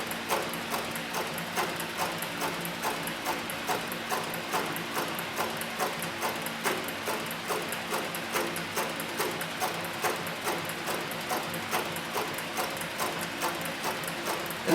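A cheap heavy-duty leather sewing machine fitted with a size 328 needle stitches thick leather in a steady, fast, even mechanical rhythm of repeated ticks, continuous and close throughout with no talking.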